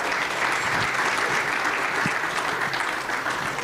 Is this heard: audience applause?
yes